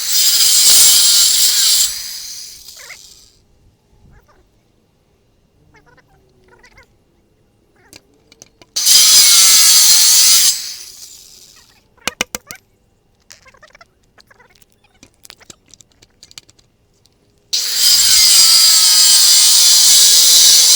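Power saw cutting a new wooden stair stringer for composite patio steps, heard as three loud, sustained bursts of cutting separated by quieter pauses with faint handling noise.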